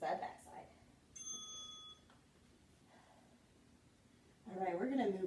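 A workout interval timer bell rings once during a core exercise routine, a bright sustained ring under a quiet room, with talk before and after.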